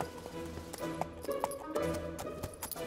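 Cartoon horse hooves clip-clopping at a steady walking pace over a soft musical background, close and moderately loud.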